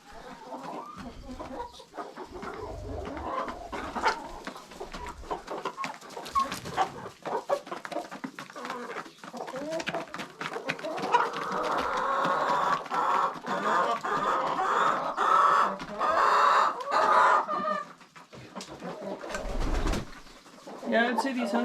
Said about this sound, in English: But our chickens are doing pretty good.